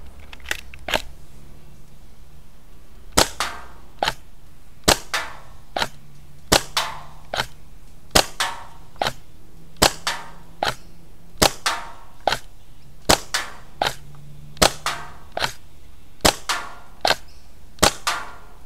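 A Super Cheetah 300fps bottle-on semi-auto foam blaster fires at bamboo targets, giving sharp snapping shots in quick irregular bursts, about two dozen over the stretch, with pauses between volleys.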